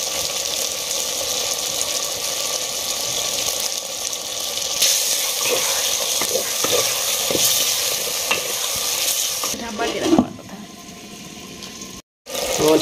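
Chicken fries in a clay pot for a homemade chicken masala, giving a continuous close sizzle with scraping stirs through it, and a brief louder clatter near the end.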